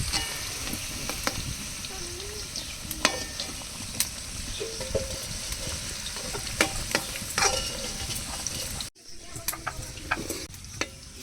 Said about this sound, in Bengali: আলু আর কুমড়ো এত পরিমাণে যে দুবার করে দিয়ে ভাজতে হচ্ছে